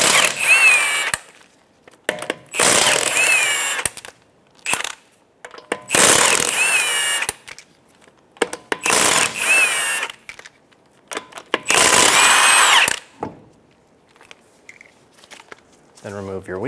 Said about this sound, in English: Using a 19mm socket, I'm going to remove my 5 lug nuts.